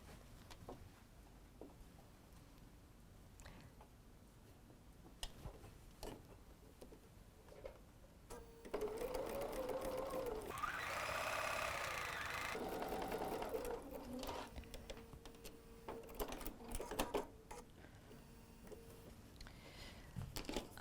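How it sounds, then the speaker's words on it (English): A sewing machine stitches quilt fabric in a sewing room, a quiet stretch with small handling taps giving way to a steady mechanical whirring run of a few seconds, then shorter bursts and stops. "We'll go ahead and cut and sew again."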